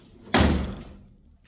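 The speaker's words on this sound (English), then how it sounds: "if I close the door" A Mazda RX-7 FD car door shuts once with a solid, close thud that decays quickly.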